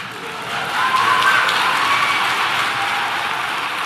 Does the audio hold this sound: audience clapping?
yes